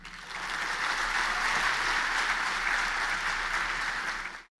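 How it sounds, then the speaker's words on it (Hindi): Audience applause from a lecture crowd, a steady dense wash of clapping sustained for about four seconds before cutting off abruptly. "ताली तो बजा दी आपने"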